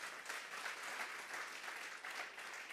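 A church congregation gives the Lord a round of applause, a faint, steady wash of many hands clapping with no speech over it.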